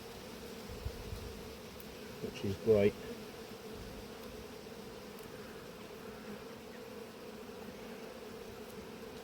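Bees hum in a steady, dense drone around an open hive at an apiary during an inspection, with a short louder buzz passing close and a few quiet words spoken over it.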